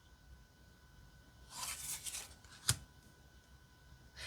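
A glow-in-the-dark tarot card deck is riffled in a soft papery burst for about a second, followed by a single sharp tap, close and quiet with no talking.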